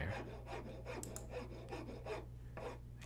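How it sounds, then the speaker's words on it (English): Rhythmic back-and-forth rasping strokes, like a saw biting through wood, repeat steadily at moderate distance over a low steady hum in a Nancy Drew Haunted Carousel game scene. "It kind of sounds like someone's sawing."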